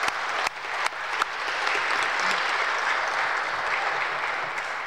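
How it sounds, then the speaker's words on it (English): Audience applause closing a keynote speech on multilateralism in a large hall, a steady, even roar of many people clapping with a few sharp claps standing out near the start. "I would like to ask for a kind applause."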